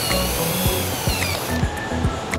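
A power screwdriver drives screws while assembling a BMS board onto a four-string lithium iron phosphate battery pack: a close, loud whirring motor runs in short repeated bursts with rising and falling pitch, with no talk.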